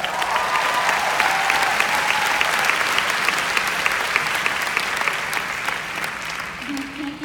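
A large leadership summit audience claps continuously, a loud sustained wash of applause; near the end a voice begins to speak over it.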